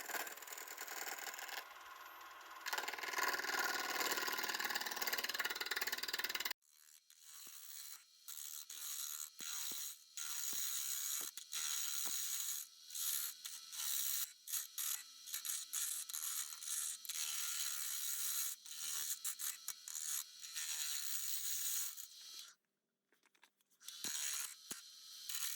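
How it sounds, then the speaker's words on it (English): Wood ring blank spinning on a lathe, held on a spur center while being roughed to shape; a steady broadband rasp of cutting runs through, broken by many sharp clicks and scraping bursts, with no talk. "Then I put it on the lathe, first mounted with the spur center to get a rough shape"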